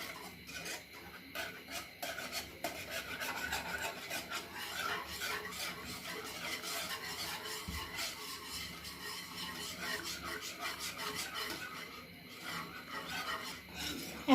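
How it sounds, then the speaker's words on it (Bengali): A spoon stirring mango squash mixture continuously in a pan as it thickens, producing steady close scraping and rubbing strokes without speech. "এখন আমি এটা অনবরত নাড়তে থাকবো ঘন হয়ে আসা পর্যন্ত।"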